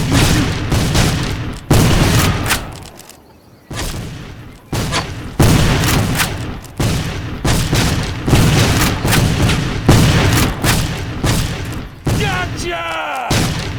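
Repeated gunfire bursts in the Civil War video game History Civil War: Secret Mission, loud booming volleys in blocks separated by brief gaps, with voices under some shots.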